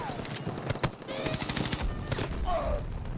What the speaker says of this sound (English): Shoot him, turret, shoot him.